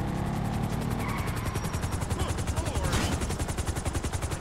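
A Frogger helicopter in GTA 5 beats with rapid, loud rotor chopping that pulses steadily through the whole stretch, dense and close, with faint game sounds layered beneath.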